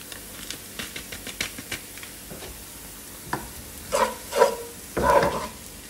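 Spices are tipped into a cooking pot of shrimp kabsa and stirred, giving light scraping and tapping clicks followed by short bursts of sizzling, close and moderately loud with no talk.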